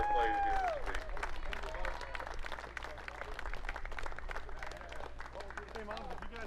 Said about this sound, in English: we enjoy giving them a great round of applause for their play here this week